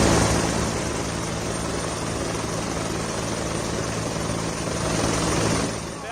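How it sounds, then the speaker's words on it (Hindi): A helicopter showers flower petals over crowds of pilgrims at the Sangam riverbank, its rotor and engine drone loud and steady throughout, holding a constant whirring roar before easing slightly at the end. "हेलीकॉप्टर से फूलों की बारिश की गई।"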